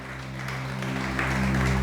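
A church congregation applauds during a sermon, steady clapping that builds in loudness over a low sustained organ or keyboard tone.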